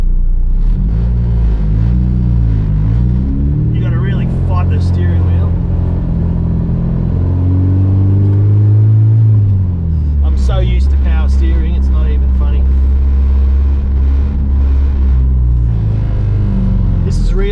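A K-swapped EG Honda Civic on a road shakedown drive, its engine loud and close as it revs up and falls back repeatedly through gear changes, with someone talking over it.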